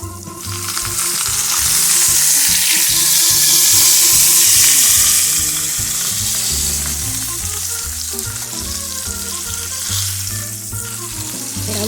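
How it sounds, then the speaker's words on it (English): Roast beef searing in a very hot pan, a loud, dense, continuous sizzle that swells and holds steadily throughout, close up with no talking. "Let it get a nice sear in here. Our pan is nice and hot."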